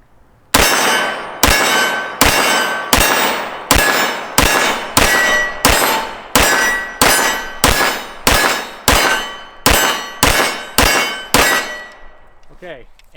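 A CZ P-07 Urban Grey pistol fires a full magazine outdoors: about fifteen loud, sharp shots at a steady, fairly quick pace, each ringing off a metal target, then a soft rattle at the end.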